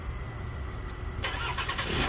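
A car engine cranks and catches partway through, a quiet hum giving way to a louder, brighter idle burst close by.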